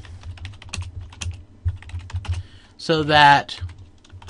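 Rapid typing on a computer keyboard: a steady patter of close, soft key clicks, briefly joined by a short spoken phrase near the end.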